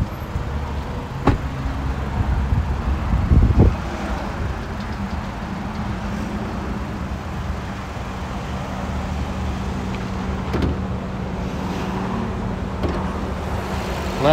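A 2016 Mazda CX-5's 2.5-litre inline-four idles smoothly at a steady low hum, with a brief mechanical clunk near the start and faint ticks, no talking over it.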